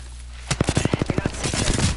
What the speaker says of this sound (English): I'm taking fire. The enemies are shooting at me.